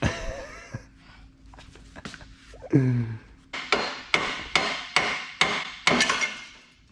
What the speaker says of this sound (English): Now you know how to use a pickle fork.